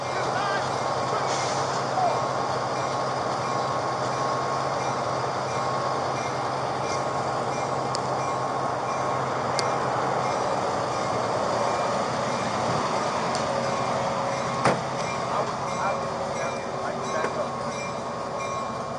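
A CSX train rumbles past at a grade crossing for about twenty seconds, with a steady broad roar, metallic squeals, scattered clanks and some background speech mixed in.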